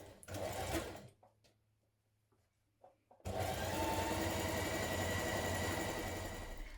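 A sewing machine stitches the center back seam of a cowl neck blouse in two close bursts, a short run, then a pause with faint handling, then a longer steady whirring run to the end.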